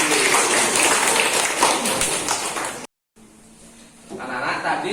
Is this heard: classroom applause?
yes